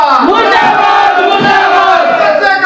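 Striking sanitation workers in Hansi chant protest slogans together, a loud, dense mass of raised voices sustained throughout without a break.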